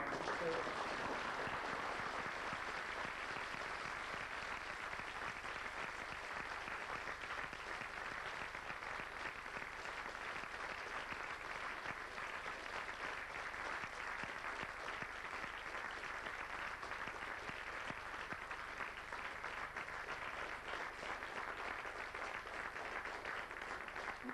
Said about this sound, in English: I have to wrap up by saying a very big round of applause